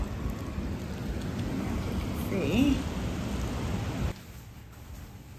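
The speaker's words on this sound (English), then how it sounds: "we have quite a storm going on outside. It's pouring rain." Heavy storm rain pours with a dense hiss, a voice briefly speaking over it, before the sound drops off abruptly near the end.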